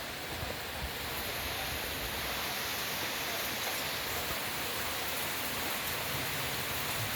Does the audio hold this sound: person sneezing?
no